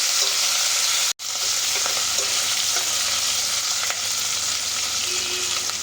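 Green chillies fry in a hot pan, giving a loud, continuous sizzle with light stirring noises throughout after a very short break early on; there is no talking.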